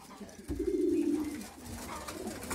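A racing pigeon coos once, a soft, low rolling call close by, over a quiet background with faint scattered sounds from the loft the day after a race.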